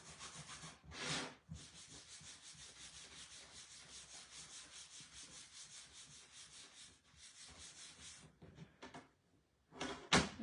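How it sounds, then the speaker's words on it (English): A cloth rubs a very light coat of wax across the top of a piece of furniture, with repeated soft back-and-forth strokes and a few brief knocks, no talking. "we're going to use my favorite wax and just put a very, very light coat on the top"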